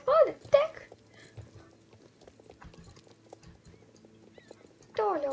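Hooves of a horse ridden bareback outdoors, a few soft clip-clop steps spaced through the clip, with people calling and talking loudly at the start and end.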